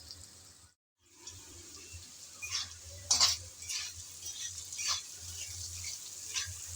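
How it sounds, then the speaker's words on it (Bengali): Potatoes with spices frying and being stirred in a pan, a quiet low sizzle broken by clinks and scrapes of the spoon against the pan. "মশলাগুলো দেওয়ার পর নেড়েচেড়ে একটু মিশিয়ে নিলাম। অপেক্ষা করব যাতে একটু ভাজা ভাজা হয়ে আসে।"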